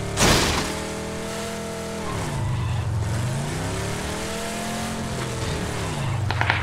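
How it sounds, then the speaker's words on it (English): A motorbike engine in PUBG Battlegrounds drones steadily throughout, its pitch dipping and rising as it nears, with a brief impact at the start and clicks near the end. "There's a bike coming, watch out."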